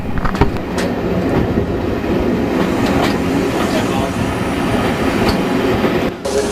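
A West Somerset Railway train runs into Bishop's Lydeard station with a loud, steady rumble of wheels and carriages and occasional sharp clicks and knocks over the rails. The sound holds up close for the whole stretch.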